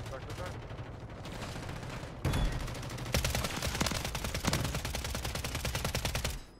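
Gunfire in Call of Duty on Rebirth Island, a sharp blast followed by rapid repeated shots in quick bursts, loud and close, with game noise around it.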